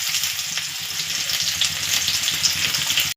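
Chopped onion sizzles steadily in hot oil in a kadhai, with cumin already frying, a dense continuous crackle that stays even and close throughout, without talk.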